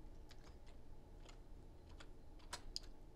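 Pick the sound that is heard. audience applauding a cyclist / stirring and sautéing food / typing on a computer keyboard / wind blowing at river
typing on a computer keyboard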